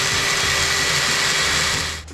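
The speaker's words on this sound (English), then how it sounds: "Now we just gotta drill through these 2 holes here." A drill bores through holes in a metal plate on a 2015 Mustang GT, giving a loud, continuous high grinding whir that runs steadily and then cuts off abruptly near the end.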